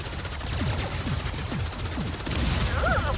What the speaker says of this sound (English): Ooh, pretty explosion.